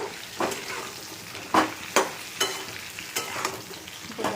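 Stuffed brinjals fry in hot oil in a pan with a steady sizzle, broken by several sharp scraping stirs about every half second to second, close and moderately loud, with no talking.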